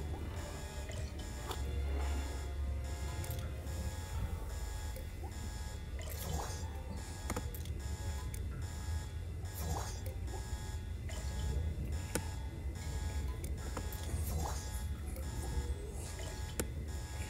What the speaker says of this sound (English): The alarm's going off? Yes.